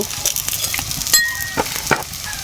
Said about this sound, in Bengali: উল্টি পাল্টে হালকাভাবে ভেজে নিলাম